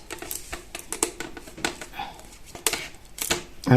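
Buttons pressed on the keypad of a Husqvarna 415X robot lawn mower: a rapid, uneven run of close plastic clicks and taps, with a voice faintly present.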